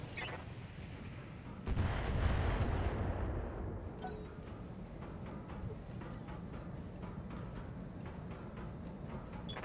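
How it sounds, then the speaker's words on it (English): Mortar artillery fire in the BattleTech video game, a heavy boom swelling into a rolling rumble, followed by fainter distant blasts and crackles. "So, I'll see about maybe sandpapering this Irby with some mortars."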